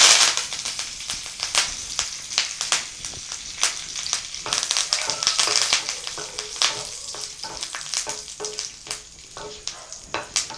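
Curry leaves frying in hot coconut oil for an aval mixture, a dense crackling sizzle with many sharp pops and spits that settles slightly over time, close and steady with no talking.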